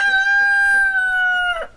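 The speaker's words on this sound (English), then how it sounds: "We also have a lot of heirloom breeds of chicken." A rooster from a varied flock of heirloom chicken breeds crows once, a loud, close, sustained call held for about a second and a half that breaks off sharply at the end.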